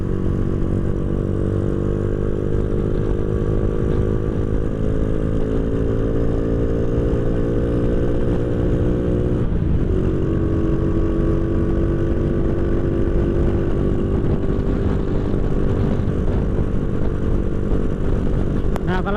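A motorcycle with a slightly leaking exhaust holds a steady RPM on a ride, its engine droning loud and close with a rough, constant rumble and a brief shift in pitch midway.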